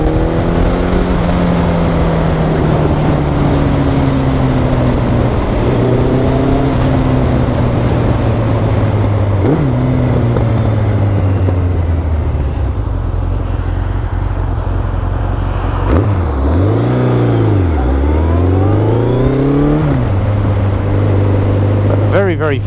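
A Yamaha XJR1300 motorcycle on a test ride, its engine droning steadily and rising and falling in pitch as it revs through the gears, loud and close throughout with rushing wind.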